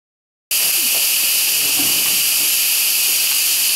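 A pressure cooker of sweet potatoes vents steam in a loud, continuous hiss that starts abruptly and holds steady, with faint sounds underneath.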